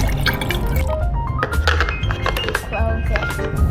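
Water is poured into the tank of a Salter espresso machine, with splashing, dripping and small clinks close up while people talk over it.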